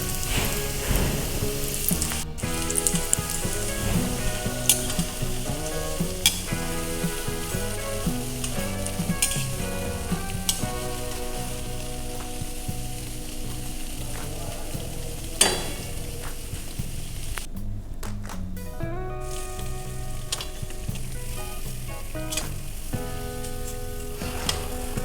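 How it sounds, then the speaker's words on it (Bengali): Steady crackling sizzle of nimki pastries deep-frying in hot oil, continuous and close for the whole stretch, with occasional stirring clinks and no voices. "নিমকিগুলো ভাজা হয়ে গেল, এখন সেগুলোকে তুলে নেওয়া হচ্ছে।"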